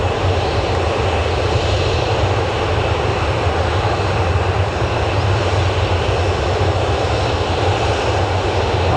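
A Beechcraft King Air BE20 turboprop taxis at Newcastle Airport, its engines making a loud, steady, unbroken drone that holds constant throughout.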